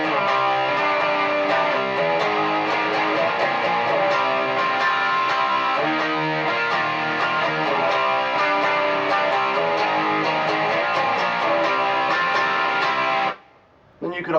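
Distorted electric guitar plays a riff, dense and continuous for about thirteen seconds before cutting off abruptly, with no talk over it.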